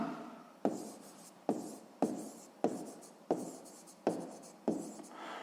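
A pen scratches on paper while a sixth-grade math exercise is written out, giving close, steady strokes in a regular rhythm of about eight distinct bursts, each starting sharply and fading.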